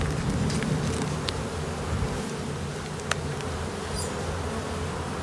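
Honeybees buzz steadily all around an open hive during a spring inspection in February, a dense close hum with a few sharp clicks of frames and tools.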